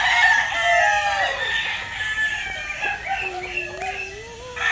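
Gamefowl roosters crow on a breeding farm, several overlapping cock-a-doodle-doo calls, some close and loud and others farther off, with clucking and faint background noise between them.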